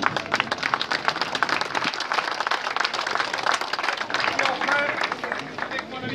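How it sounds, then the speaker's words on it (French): Sustained audience applause at a French commemorative event at Glières, a dense, even wash of many hands clapping from start to finish, with light crowd noise beneath. "je voudrais vous demander de l'applaudir."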